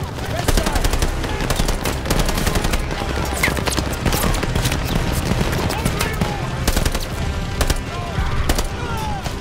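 Loud, sustained machine-gun and rifle fire from the WWII Normandy invasion game D-Day Operation Tonga, rapid overlapping bursts and sharp cracks filling the whole stretch, with shouted voices mixed into the battle.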